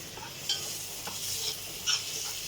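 Onion frying in a pan while okra, rice and a potato tray are being cooked, giving a steady close sizzle with a few sharper crackles and light stirring, with no talking.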